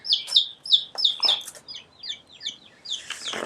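Golden comet chicks chirp in rapid, high-pitched peeps under a heat lamp, a quick run of close bursts that thin out and then blur into a softer scratchy flutter at the end.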